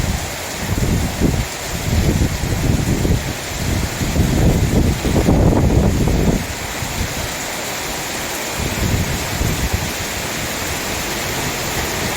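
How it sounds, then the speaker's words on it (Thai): Strong wind roars steadily, surging in louder gusts for several seconds before easing back to a constant rushing noise. "ลมกระโชกแรงมากเลยครับตอนนี้"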